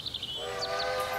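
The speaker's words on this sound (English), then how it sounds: "That majestic whistle is a sure sign." Steam locomotive whistle sounds in short tooting bursts followed by a longer sustained tone over a low rail rumble.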